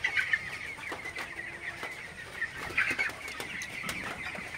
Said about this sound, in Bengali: আপনারা দেখতে পাচ্ছেন মাশাআল্লাহ মুরগিগুলো অনেক ভালো আছে